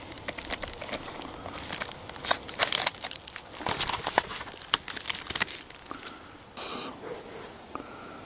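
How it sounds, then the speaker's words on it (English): Material from a crashed spacecraft being cut, with close, irregular crinkling, crackling and tearing sounds that come in uneven bursts over several seconds, with no talk. "We will now cut a section out of it to take back to the lab."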